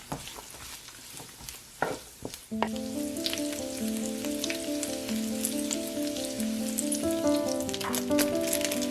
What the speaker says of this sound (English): Add the dried shrimp and diced Chinese sausages. Stir fry for 1 to 2 minutes